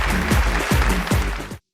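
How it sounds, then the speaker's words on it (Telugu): Studio audience at a Telugu TV game show claps steadily for about one and a half seconds, a dense close wash of hand claps with no talk, ending abruptly. "ఓకే, చప్పట్లు కొట్టండి."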